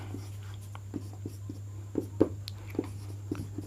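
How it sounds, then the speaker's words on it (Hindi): Chalk writing on a classroom board during a chemistry lecture, a series of faint short taps and scratches in irregular rhythm over a steady low electrical hum, with no talking. "तो इस लाइन को भी हम लिखते हैं।"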